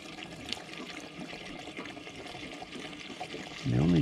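Fuel pours through a funnel into the engine tank of a Woodland Mills HM130 sawmill, a steady close trickle and splash that rises into a fuller gurgle as the tank nears full.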